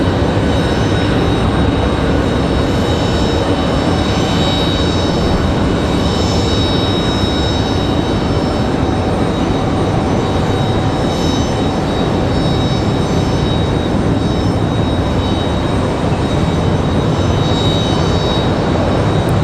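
A Sun Country airliner touches down at Raleigh-Durham airport, giving a loud, steady jet engine roar that holds for the full twenty seconds with no talk.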